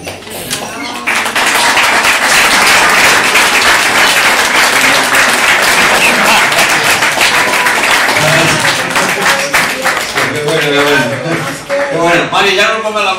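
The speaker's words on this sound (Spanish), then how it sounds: "Vaya mierda de aplauso que me habéis dado" Live audience applause for a comedian on stage, a dense crowd clapping loudly and steadily for several seconds, thinning toward the end as a voice starts talking over it.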